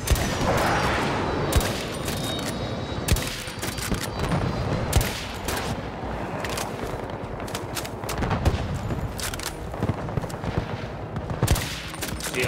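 Gunfire in the Battlefield 2042 game, dense bursts of rifle and automatic fire with repeated loud shots and booms overlapping through a busy, chaotic battle soundscape.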